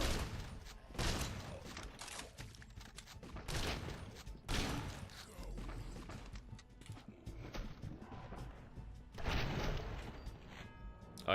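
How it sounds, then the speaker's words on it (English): Enemy gunfire in a video game, with repeated bursts of shots and heavy impacts that recur throughout, fairly loud and busy, without talk over it. "they're just shooting at me already"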